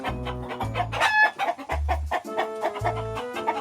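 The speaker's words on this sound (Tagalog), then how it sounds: "Pang sabong na manok." A fighting rooster clucks and makes short throaty calls nearby, repeated in uneven bursts with other chicken sounds in the background.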